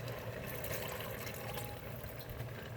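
Three cups of water poured into a cooking pot of pasta with tomatoes, a steady soft splashing and trickling that continues evenly throughout, fairly quiet and without talk.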